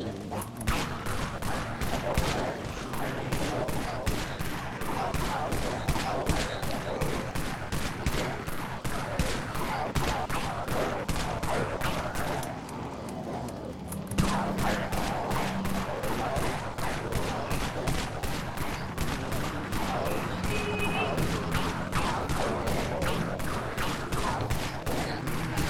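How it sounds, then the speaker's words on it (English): Rapid automatic shotgun fire from an AA-12 in the video game Dead Frontier, a steady stream of dense, evenly spaced blasts running nearly the whole time with only a brief pause midway, loud and close. "The AA-12 3 years ago was the second best shotgun in the game."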